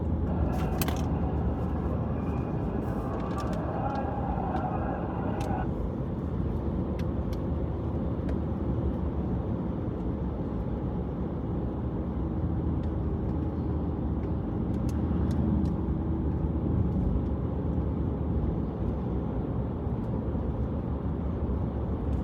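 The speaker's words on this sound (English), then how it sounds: "we're just over here driving on a little road here over in Louisville" Car driving along a small back road near Louisville, a steady low road and engine rumble holding level throughout with no talk.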